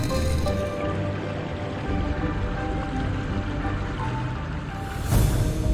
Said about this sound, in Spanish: Bajo estas letrinas circulaba un gran caudal de agua que arrastraba los excrementos